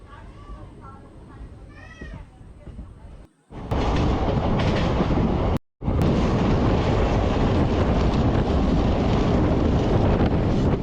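An express train running on rails between Kurnool and Guntur gives a loud, continuous rumble and rattle with heavy wind buffeting. It is preceded by a stretch of muffled talk and broken by a brief dropout.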